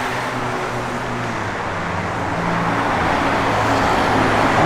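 A 1970 Chevrolet Camaro RS with a cowl hood and 17-inch American Racing Torq Thrust wheels drives down the road, giving a steady, fairly loud engine and road rumble that swells slightly toward the end, with no talking.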